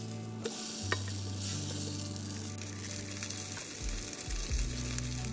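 Square sausage frying outdoors on a remote coastline, a close, steady sizzle with scattered pops and a few clanks of a utensil over a low rumbling hum.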